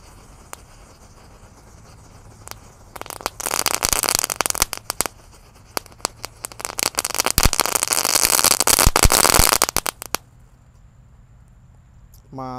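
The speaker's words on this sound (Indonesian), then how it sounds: "ini ada mercon disco pretek." A pack of disco pretek firecrackers is lit and crackles in a dense, rapid string of sharp pops for about seven seconds, loud and close, with scattered single bangs before and after.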